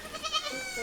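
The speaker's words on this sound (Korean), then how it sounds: "울음소리의 주인공들, 산비탈 뛰어다니는 녀석들은 한 부부가 키우는 흑염소들입니다." Black goats, part of a herd of about a hundred raised by a couple, bleating on a mountain slope; several overlapping bleats sound in quick succession at moderate distance, with no voices.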